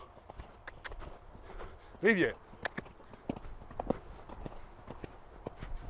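Rhythmic hoofbeats of a horse moving at a steady gallop, muffled and moderately near, with a voice briefly speaking over them.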